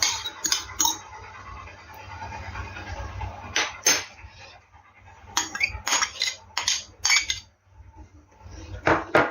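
A fork clinks and scrapes against a bowl while potato pancake batter with eggs is whisked, giving a run of sharp metallic taps and rattling bursts, loud and close, with quieter pauses between strokes.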